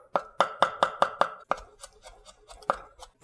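Knife mincing shrimp on a cutting board in a home kitchen, a fast run of sharp, close chops, then scattered softer taps and a few more firm strikes.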